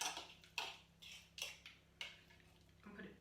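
Lime juice being mixed into mashed avocado, a spoon clicking and scraping against a bowl in about five quiet, separate strokes.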